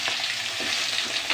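Fish frying in a hot pan on a home stove, oil spitting hard, a steady loud close sizzle with crackling bursts and splatters throughout.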